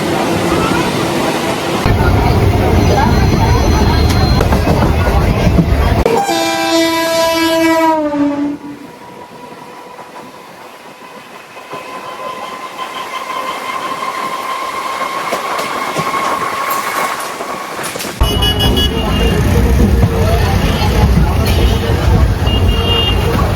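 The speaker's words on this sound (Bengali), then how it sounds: "ট্রেন দাঁড়িয়েছে ক্যানিং স্টেশনের 2 নম্বর প্ল্যাটফর্মে।" A train pulls into Canning station platform with a loud rumble, a long horn blast and squealing brakes, then goes quiet at the stop before noise rises again; people talk in the background.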